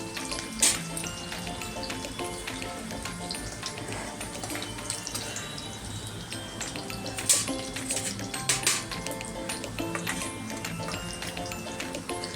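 Green chillies frying in oil in a pan for ragi puffs chivda, a dense continuous sizzle and spatter with a few sharper pops, loud and close throughout.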